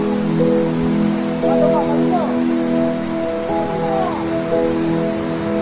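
Steady rain patters down as a constant wash of noise, with faint voices and a low tonal hum underneath.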